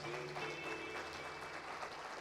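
A church congregation applauds in praise, producing a dense, steady wash of many hands clapping together at a moderate distance that continues throughout.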